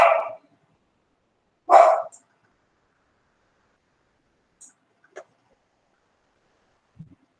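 A dog barks twice, two short sharp barks a couple of seconds apart and somewhat distant, followed by faint scattered noises in an otherwise quiet room during an online class.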